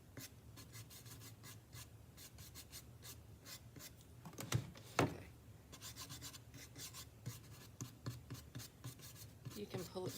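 A stencil brush drags and rasps over the painted wood surface of a chest or side table in a series of quick, close, scratchy strokes, faint overall with a few louder swipes and no talking.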